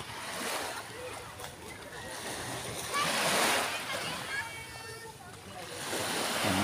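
Waves splash and wash continuously with broadband surf noise that swells and recedes, close by, with faint voices underneath.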